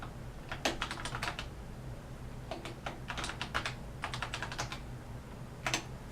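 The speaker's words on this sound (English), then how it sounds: "So we're just going to type, take caps lock off." Keys clatter in short bursts of rapid typing on an Apple IIe keyboard, with pauses between the runs, close and clear over a low steady hum.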